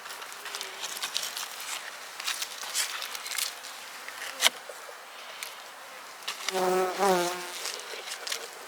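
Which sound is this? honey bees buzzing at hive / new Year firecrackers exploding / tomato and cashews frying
honey bees buzzing at hive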